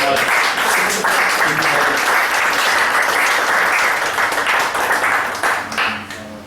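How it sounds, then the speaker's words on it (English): Sustained audience applause fills the room after a talk on the Savar tragedy in Bangladesh, loud and steady for several seconds before tapering off at the end. "Please give them a round of applause."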